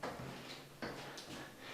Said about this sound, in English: So I'll just close this door so that you can see.